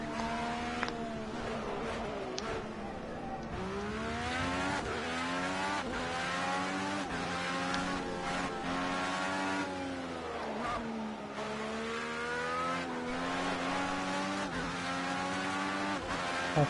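IndyCar engines in Project Cars 2 at Dubai Autodrome scream close by, rising and falling through repeated gear shifts and revs for the whole stretch, with brief tire squeals.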